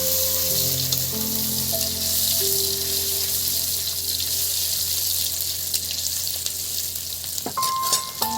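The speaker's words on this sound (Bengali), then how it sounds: "এবার যে আদাটা আমি ছেঁচে রেখেছিল সেইটাই তেলের মধ্যে দেবো" Crushed ginger frying in hot oil, a steady close sizzle with a faint hum underneath and a few clinks near the end, no talk.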